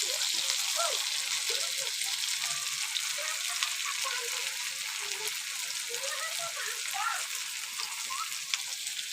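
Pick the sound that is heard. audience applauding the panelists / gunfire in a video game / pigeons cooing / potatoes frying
potatoes frying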